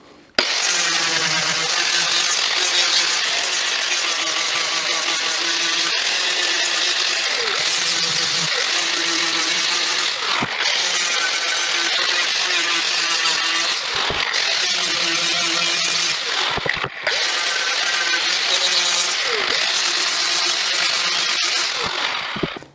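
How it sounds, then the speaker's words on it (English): An angle grinder rounds over the edges of live-edge wooden board and batten in a gable, a loud, sustained high whine with brief dips where the tool eases off the wood. "I'll just take my grinder now and I'll just kind of round all that over"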